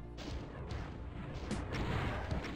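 The super chaingun fires in Doom II, putting out a rapid stream of heavy booming shots that runs nonstop for the whole span and stays loud and close.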